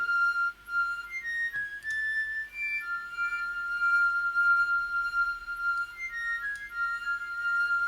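A soft flute-like line plays sustained notes with faint echoing repeats trailing behind, giving a gentle, airy wash of delay.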